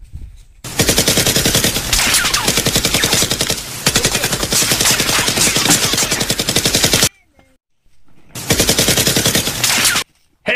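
Long bursts of rapid automatic gunfire aimed at a target, loud and dense, with a short pause before another sustained burst.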